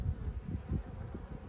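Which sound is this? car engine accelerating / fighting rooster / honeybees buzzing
honeybees buzzing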